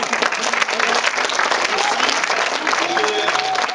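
A crowd at a screening event with a film director on a video link keeps up steady, vigorous clapping throughout, loud and dense, with a few voices and brief tones faintly beneath.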